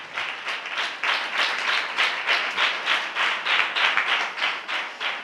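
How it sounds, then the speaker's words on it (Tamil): A church congregation claps hands together in a steady rhythmic beat, roughly two claps per second, loud and sustained for several seconds with no voices over it. "நல்ல கைத்தட்டி ஆண்டவருக்கு நன்றி சொல்லுங்க."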